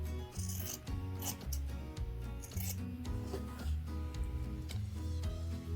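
Scissors trim the fabric straps of a sewn bear overall, giving continuous close rubbing and rasping cuts with small snips running throughout, and nobody speaks.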